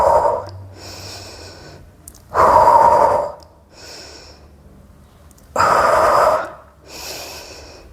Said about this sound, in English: Breath in, breath out.